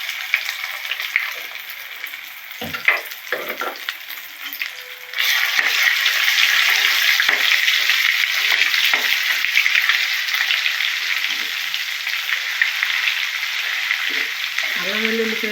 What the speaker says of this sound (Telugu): అల్లం వెల్లుల్లి పేస్ట్ బాగా ఆయిల్లో ఫ్రై అయిన తర్వాత వండలు లేకుండా కలుపుకోవాలి